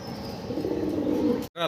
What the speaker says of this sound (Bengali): লাক্ষা কবুতর দেখতেছি আমরা ব্ল্যাক কালারের ভিতরে